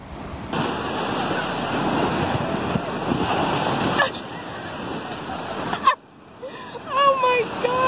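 Ocean surf breaks on a beach where kids are playing, a steady broadband roar of waves for several seconds that drops away, followed by excited voices talking and shouting.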